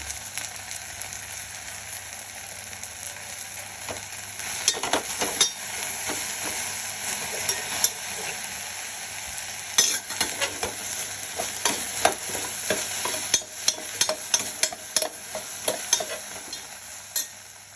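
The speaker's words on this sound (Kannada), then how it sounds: "ಬೆಂಡೆಕಾಯಿ ಹುರಿದಾಗಿದೆ" Sliced okra fries in oil with turmeric in a pan, a long even sizzle near the mic, joined by increasingly frequent sharp spatula clicks and scrapes as the stirring picks up; no speech.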